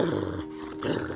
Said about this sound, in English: he was opening the gate when he heard growling sound